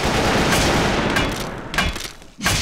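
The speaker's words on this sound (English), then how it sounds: "I'm going to kill it with a Thomson machine gun." Thompson machine gun in the survival game Rust, firing a sustained, loud burst of rapid automatic shots, then a brief pause and a second short burst at the end.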